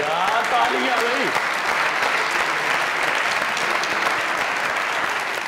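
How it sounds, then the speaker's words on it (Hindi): A studio audience at a comedy talk show claps loudly and continuously for over five seconds, with a voice speaking briefly over the start of the applause. "यार तालियां भाई"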